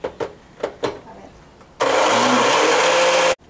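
A kitchen blender mixes banana bread batter with a cup of flour, starting after a few soft taps and running loud and steady for about a second and a half before stopping abruptly.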